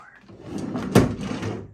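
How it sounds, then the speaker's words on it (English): A wardrobe drawer in a baby room slides open with a short scrape that ends in a sharp knock. The sound is soft and brief and comes over faint room noise. "I forgot about this drawer."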